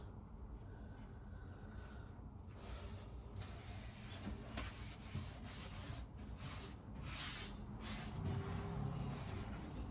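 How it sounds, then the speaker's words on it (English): A cloth rubs back and forth over a grimy camper surface caked with layers of dirt, a soft, faint scrubbing that grows slightly busier over time. "There's so many layers of dirt I'm wiping, and it's just leaving dirt streaks."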